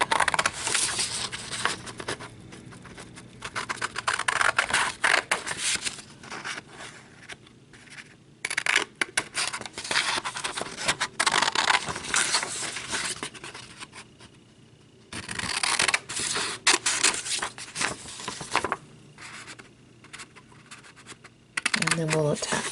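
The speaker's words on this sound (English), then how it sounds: "So I'm just going to cut this out" Scissors cutting out a paper pattern for a handmade Easter tag, with choppy crisp snips and rustling paper coming in uneven stretches, close up, alongside some talking.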